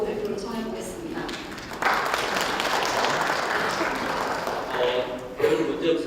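An audience at a 2018 community media forum in Korea applauds a presenter, with steady clapping that swells midway and again near the end, while a voice speaks over it.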